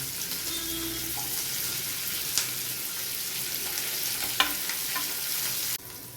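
Onion and capsicum fry in a pan, a steady close sizzle with a few soft stirring scrapes and clinks, then the hiss drops a little near the end.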